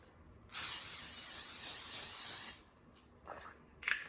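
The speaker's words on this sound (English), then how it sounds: "spray an 8-inch or a 9-inch square baking dish with cooking spray" A steady two-second hiss of aerosol cooking spray onto a square baking dish, loud and close, followed by a few faint rustles and a short hissy burst.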